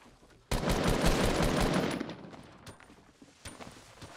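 A sustained, dense burst of rapid automatic gunfire in the Fortnite video game lasts about a second and a half, loud and close, then fades into scattered quieter shots and a final crack.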